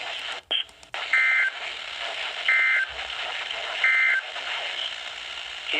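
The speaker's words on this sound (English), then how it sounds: "This concludes the test of the NOAA weather radio warning alarm and emergency alert system." A NOAA weather radio emergency alert system test sends three short, identical electronic data bursts at regular intervals over a steady broadcast hiss, loud and clear with no voice.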